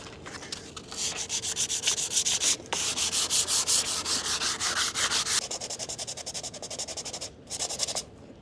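Teak wood with old varnish being sanded by hand with 120-grit sandpaper, close and fairly loud: steady rhythmic rubbing strokes with a brief break near the middle and a short pause before the end.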